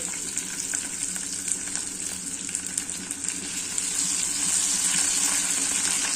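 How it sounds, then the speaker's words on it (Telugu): A tempering of garlic and green chillies sizzles steadily in hot oil, a dense, close frying hiss that swells louder in the last couple of seconds. "పోపు వేసుకుంటున్నానండి."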